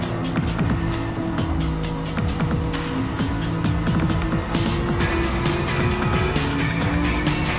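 Race cars in a 2022 Challenge Series race roar around the track, with constant overlapping engine whine and repeated tire squeals as they battle closely through corners.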